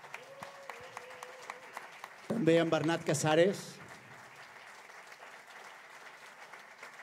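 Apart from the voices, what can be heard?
audience applause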